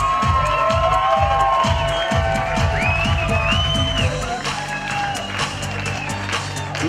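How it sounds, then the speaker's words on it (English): Wedding guests at a banquet-hall reception clap and cheer for the parents of the bride, a dense, lively crowd roar with shouts and whoops that stays strong for several seconds before easing slightly. "a great big round of applause for the proud parents of the bride"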